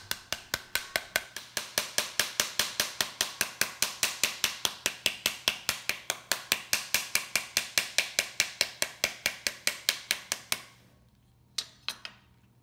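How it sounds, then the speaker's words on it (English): A pomegranate half is smacked repeatedly to knock out its seeds, about fifty sharp even thwacks in quick steady rhythm, close and loud, then a pause and a few last scattered hits. "Gently squeeze it and continue smacking until the remaining seeds fall out."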